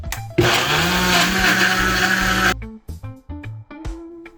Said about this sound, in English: we're gonna get our blender started